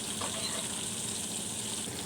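Fish coated in red chilli powder, turmeric and garlic frying in a pan, a steady close sizzle of hot oil running unbroken throughout with no talking.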